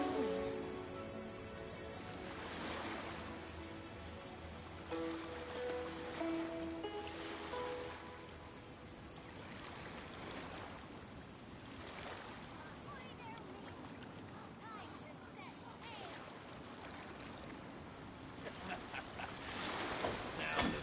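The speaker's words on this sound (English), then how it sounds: "The sound of the ocean waves." Ocean waves in Genshin Impact wash in as soft, rolling swells that rise and fade every few seconds, a gentle surf bed under quiet game music.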